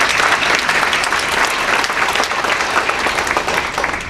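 An audience at a YMCA of Los Angeles strategic planning launch event applauds, with loud, dense, steady clapping filling the whole stretch without a pause.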